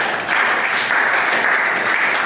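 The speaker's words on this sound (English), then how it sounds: "let's applaud for all the great men that God used yesterday." A church congregation at a morning devotion breaks into a dense, loud round of applause, steady clapping that swells quickly and holds evenly throughout.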